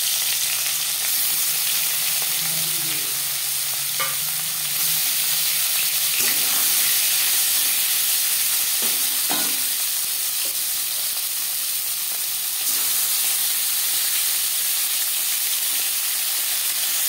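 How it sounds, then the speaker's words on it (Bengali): Another taki fish, rubbed with salt and turmeric, frying in hot oil: a loud, unbroken close sizzle and hiss lasting throughout, punctuated by a few sharp knocks and clicks from the pan. "পরের মাছ একইভাবে ভেজে নেব"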